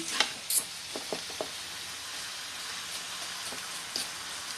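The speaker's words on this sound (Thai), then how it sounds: "ใส่หมูลงไปเลยค่ะ ผัดหมูลงไปเลยค่ะ" Pork stir-fried in caramelized sugar for braised eggs, a steady close sizzle with a few sharp scraping clicks of a spatula early on, then continuous frying hiss.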